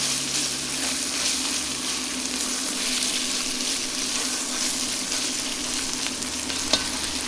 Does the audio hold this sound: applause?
no